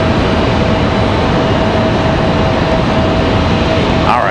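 A Copa Airlines airliner departs Raleigh-Durham airport with a steady, broad, loud roar of jet noise that holds throughout at a moderate distance.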